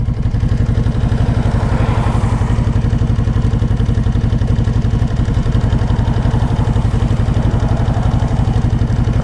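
Kawasaki Vulcan 750 motorcycle engine running steadily with a rapid, even low throb, close and loud throughout, with no talk.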